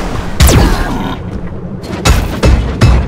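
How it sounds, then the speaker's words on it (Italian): Anti-gravity ray blasts from the UFO Robot Goldrake anime, heard as several loud booming bursts with sweeping tones, spaced irregularly, with no talk in between. "Raggio antigravità! È un cannone in meno per il grandissimo Hidargos."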